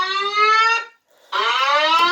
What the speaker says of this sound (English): they're called Federal Signal 950i loudspeakers for a reason.